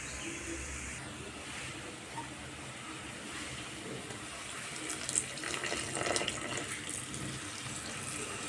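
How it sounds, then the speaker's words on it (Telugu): Water pours steadily into a pan of masala curry, a continuous splashing trickle with a slight surge toward the end, close by and fairly quiet. "నేనైతే ఇప్పుడు వాటర్ యాడ్ చేసుకుంటున్నానండి"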